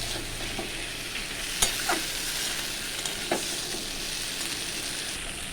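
Shrimp and jackfruit seed curry sizzles steadily in a frying pan, with a few soft scrapes and knocks as it is stirred; continuous close frying hiss, no voices.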